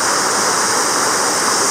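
Krisik waterfall roars as a steady, loud rush of falling water along an upstream path, constant and unbroken with no voices.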